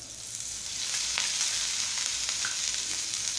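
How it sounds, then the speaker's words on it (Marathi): Chopped onion fries in hot oil in a pan, giving a steady, close crackling sizzle with scattered pops and occasional stirring sounds, and no voices. "आणि कांदा लालसर होईपर्यंत आपण भाजून घ्यायचा आहे"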